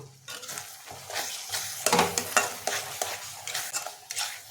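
A spoon stirs spice masala with Kashmiri chili powder in a pan for paneer curry, scraping in uneven bursts over a soft sizzle, close and fairly loud, with no talking.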